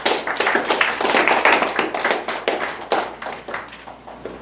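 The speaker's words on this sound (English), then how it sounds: "Give yourself a round of applause." An audience at a Christian fellowship ministry event claps for several seconds, the applause holding steady and full before thinning toward the end, with no talk over it.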